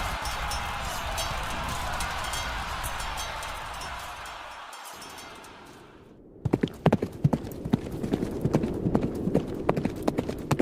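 After a stretch of steady roaring noise cuts out, a horse's hooves clip-clop in an even walking rhythm on a forest ride, close and distinct.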